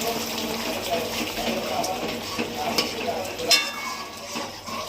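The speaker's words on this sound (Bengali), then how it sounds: "জিরে লঙ্কা বাটা ছিল, দিয়ে দিলাম।" Cumin and green chili paste going into a village-style curry of chenga fish and seeded banana: an even frying sizzle with stirring scrapes and a few sharp utensil clinks near the pot.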